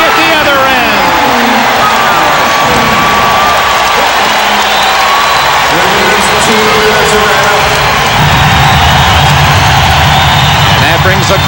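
Arena crowd at a 1991-92 NBA playoff basketball game roars in a loud, sustained cheer and applause, dense and steady throughout with a brief swell near the end.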